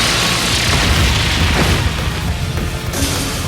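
Brionac, a large energy weapon in the video game Trails of Cold Steel III, firing and exploding: a sustained heavy booming roar with dense low rumble and crackling bursts, loud and continuous throughout.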